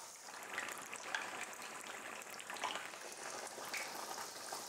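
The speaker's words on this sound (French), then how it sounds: "Je les enrobe de pâte à tempura. Et ensuite, direction voilà, le bain de friture." White fish fillets coated in tempura batter fry in a bath of hot oil, giving a steady, dense crackling sizzle with scattered pops throughout, close and continuous with no talking.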